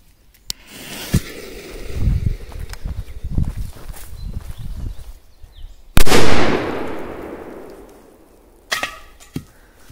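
A powerful P-23 firecracker explodes under a pot with one sharp, loud bang and a clattering rattle as the pot lands, preceded by fizzing and footsteps and followed by scattered clunks.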